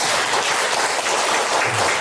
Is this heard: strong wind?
no